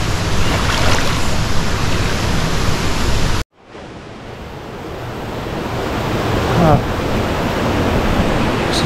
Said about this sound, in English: I think it's just fast flowing water.